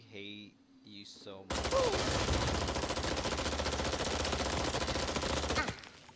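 Weapon fire in Worms WMD: a sudden loud, sustained barrage of dense gunfire and blasts lasting about four seconds, preceded by a short game voice and cutting off abruptly.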